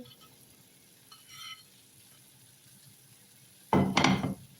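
Chicken pieces drop into a pan for chilli chicken, a faint clink early on, then a loud sizzling clatter near the end as the meat hits the hot pan and is stirred, with no speech.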